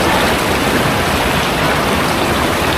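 A stream's water flows past in a steady, dense rush, continuous and fairly loud throughout with no pauses and no voices.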